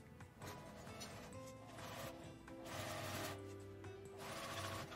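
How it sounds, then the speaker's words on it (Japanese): Close, fairly quiet whirring of a sewing machine stitching layered fabric with a 1 cm seam allowance, running in several continuous bursts with slight changes in speed. "この返し口を開けて両側を1センチの縫い代で縫います"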